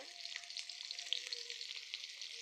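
Chopped onion fries in hot sweet oil in a home kitchen, giving a faint, steady crackling sizzle with light popping throughout.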